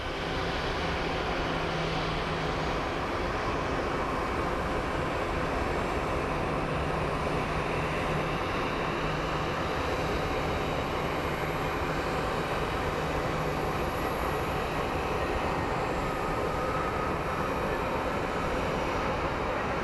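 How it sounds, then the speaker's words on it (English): An American Airlines jet arriving from Minneapolis lands at Phoenix Sky Harbor, heard as a continuous distant roar of engine and wind noise, steady and fairly faint, with no talking. "we have an American Airlines coming from Minneapolis, so let's go take a look at a landing"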